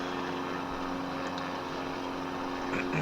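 Aircraft engines in Microsoft Flight Simulator 2020, flying over Newfoundland, give a steady, even drone with a low hum and a faint high whine that hold throughout without pause.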